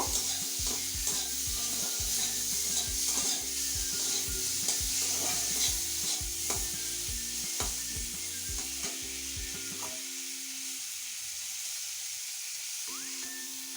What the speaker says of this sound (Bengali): এখন নেড়ে ছেড়ে আমগুলো একটু ভেজে নেব।